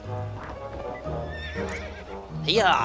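A horse in the video game To the Moon whinnies and neighs with clip-clopping hooves, the rising whinny loud at the end; a voice speaks briefly over it.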